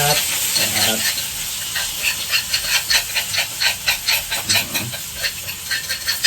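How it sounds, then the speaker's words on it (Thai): Loud, steady sizzling of pounded chili and garlic frying in a hot pan, with rhythmic stirring scrapes pulsing through the hiss. "เอาพริกกับกระเทียมที่เราผัดนะครับ ที่เราตำนะครับลงไปเลย"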